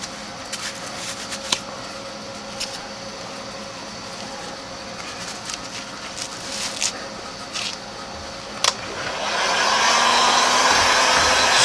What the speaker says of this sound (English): This is where your heat gun really comes in to play.